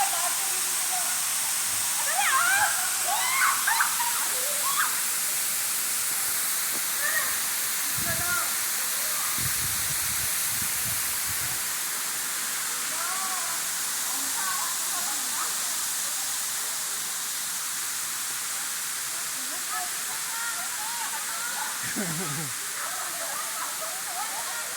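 Kawasan Waterfalls in Bohol roar with a steady, loud broadband rush of falling water, while voices chatter faintly underneath.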